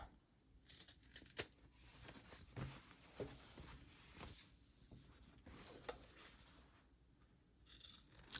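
Scissors trim down the seam allowance on a lining piece for a carryall bag, making quiet, scattered snips and soft handling noises close by in an otherwise hushed room.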